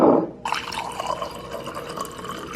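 Water pours into a drinking glass at home, a short splashing burst followed by a steady trickling fill heard close by.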